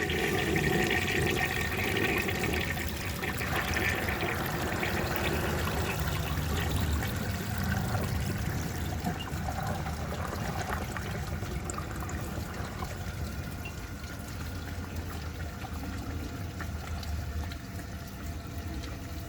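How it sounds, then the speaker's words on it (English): A 1930 Eljer Sanus toilet flushes while partially clogged, a loud steady rush of water that gradually softens over about twenty seconds, with no voices over it. "let's see how it flushes partially clogged"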